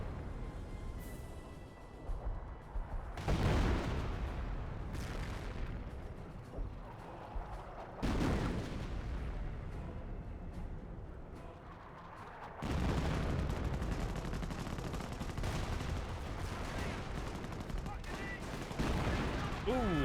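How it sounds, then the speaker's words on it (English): Hummel artillery barrage in the World War II strategy game Company of Heroes, heavy shells booming and bursting in repeated loud impacts over constant battlefield gunfire, with a voice talking in the mix. "Here comes the Hummel Barrage."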